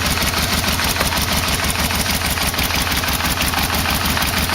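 A Yamaha V-Max motorcycle engine idles close up with a loud, even, throbbing pulse that runs without a break, smooth and free of knocks.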